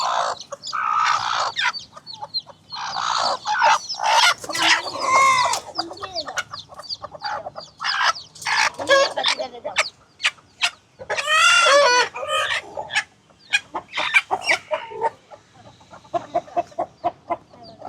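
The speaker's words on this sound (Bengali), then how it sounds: "তো ওই জায়গায় হচ্ছে আমাদের মেইন মুরগিগুলা" Hens cluck steadily with their newly hatched chicks peeping in a backyard coop, a lively run of close, overlapping calls with short bursts and gaps.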